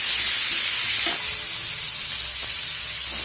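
Cauliflower and onion frying in a pan produce a bright, continuous close hiss, loudest at first and then settling to a slightly softer sizzle, with a faint clink or two.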